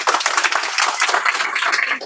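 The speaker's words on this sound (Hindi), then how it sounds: "वेरी गुड, जोरदार ताली।" Loud, dense applause from students in a classroom fills the whole stretch, close by and steady, with no voices standing out.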